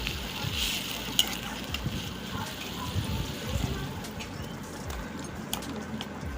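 Vegetables, including potatoes, sauté in oil with salt and a little added water, giving a steady, fairly faint sizzle and frying hiss with occasional stirring clatter throughout.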